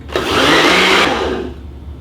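A blender whirs loudly with its lid on, mixing a chocolate drink tinted with red food coloring. The motor runs in one near, steady burst of about a second, then cuts off and winds down.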